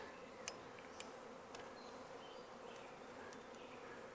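A honeybee swarm hums near a hive in a faint, continuous buzz, with a few soft ticks dotted through it.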